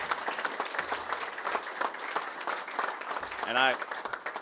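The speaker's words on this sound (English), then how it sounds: "I accept that kind of applause on behalf of the team that achieved justice" An audience at a re-election campaign speech applauds with dense, sustained clapping that carries on throughout, while a brief spoken word comes through near the end.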